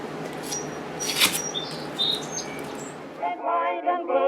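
Faint, high bird chirps sound outside a kitchen window over steady background hiss, followed by a few clearer chirping notes near the end.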